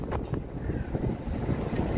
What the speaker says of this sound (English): The wind is definitely getting up.